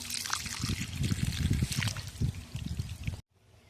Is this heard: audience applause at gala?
no